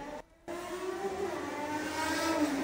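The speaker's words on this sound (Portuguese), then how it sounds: "o motor da moto dele faz maior barulhão" A motorcycle engine in a video game roars steadily under a faint wash of background sound, its pitch rising slowly as it revs, after a brief dropout near the start.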